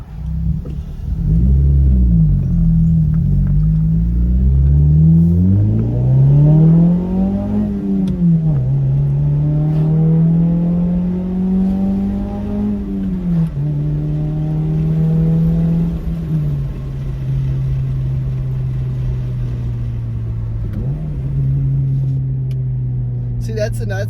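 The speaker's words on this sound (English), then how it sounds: "roll the windows down, give you more of that exhaust note, and probably a whole lot of wind noise that's gonna sound awful" A Honda CR-Z with the windows rolled down, its exhaust note rising and falling through several revs as it accelerates over a steady low engine drone, with wind noise throughout, close and loud.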